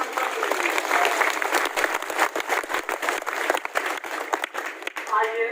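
An audience at a spiritual ashram gathering claps steadily in a sustained round of applause, with uneven individual claps standing out.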